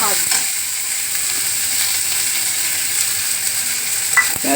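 Onion frying in a pan gives a continuous, even sizzle, close and fairly loud, with a couple of brief stirring clicks.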